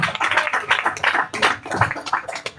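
Congregation at a Spanish-language church service applauding the Lord, loud uneven bursts of many hands clapping close by.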